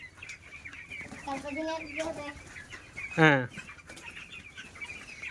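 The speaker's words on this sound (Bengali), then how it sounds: "এদিকে দেখো তো এটা কি মুরগি" Chickens cluck close by in a poultry shed, with several short calls and one loud squawk, while a person talks briefly in the background.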